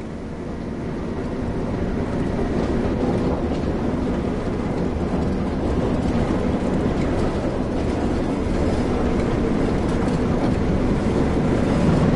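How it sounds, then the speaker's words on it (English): A train rolls along the rails on the Tees Valley Line in Train Sim World, a steady loud rumble with faint clickety-clack that builds slightly as it gathers speed. "With the train now moving, it's possible to apply more power and focus on achieving the desired speed."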